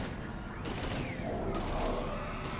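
Gunfire in Mass Effect 3 comes as a dense fusillade of rapid shots with a mechanical clatter, loud and continuous over the short stretch. A voice is faintly audible beneath it.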